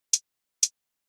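Hi-hat sample set to stretch mode with its length shortened: two short, bright, crisp ticks about half a second apart, each dying away at once into silence.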